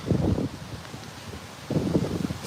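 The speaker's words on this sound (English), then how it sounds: "It's getting windy out." Gusty outdoor wind buffeting a microphone in two strong low rumbling bursts at the start and end, with a steadier breezy rush between them and no talking.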